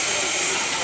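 Steam hisses loudly and steadily from a steam locomotive standing on a turntable, a brief continuous rush of close, bright noise.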